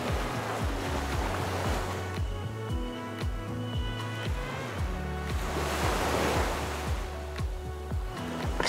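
Ocean waves wash onto a beach in Barbados as a continuous broadband roar that swells around the middle and end, with no voices.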